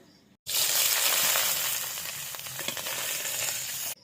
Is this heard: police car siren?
no